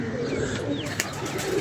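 A soaking-wet pigeon coos in low, throaty murmurs close by, the calls running continuously over faint ambient noise with a small knock near the middle.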